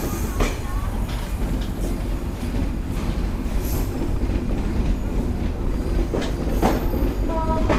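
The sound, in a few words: Kapotaksha Express train leaving Chuadanga railway station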